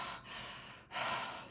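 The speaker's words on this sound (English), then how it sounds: "So anytime you see somebody breathing in through the mouth" Sharp gasping breaths drawn in through the mouth, two quick airy inhalations close to the microphone, the second louder and longer, with no talking.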